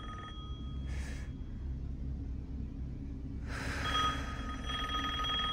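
A telephone in Resident Evil Village rings in two separate bursts of shrill bell trills over a low ambient rumble, faint and somewhat distant.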